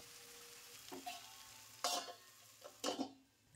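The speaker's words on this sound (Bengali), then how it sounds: "5 মিনিট পর ঢাকা খুলে খুব ভালো করে নাড়াচাড়া করে কষাতে হবে যতক্ষণ না তেল ছাড়ছে ততক্ষণ পর্যন্ত।" Tal cabbage and eggplant stirred in oil in a pan, faint low sizzling broken by a few distinct scraping stirs of the spatula, no talk.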